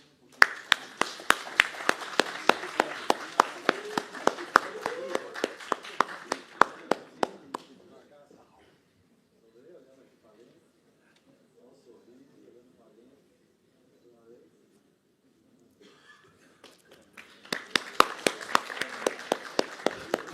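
An audience applauds at a solemn induction ceremony of the Brazilian Academy of Pharmaceutical Sciences, with a burst of dense clapping that stops, a quiet stretch with a voice speaking, and then a second round of clapping.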